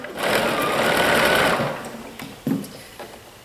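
A sewing machine stitches a dart in blouse fabric at a length of 2.5, running steadily for about a second and a half before slowing and stopping, followed by a few soft handling knocks.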